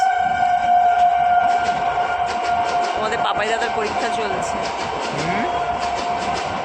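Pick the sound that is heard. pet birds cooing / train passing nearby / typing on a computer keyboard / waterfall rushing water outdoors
train passing nearby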